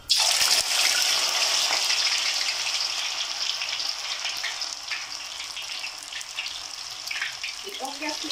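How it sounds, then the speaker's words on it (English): Slices of arrowroot, still wet, fry in hot oil with a loud, dense crackling sizzle that starts abruptly and continues steadily, easing slightly over time. "that's why the oil is too loud"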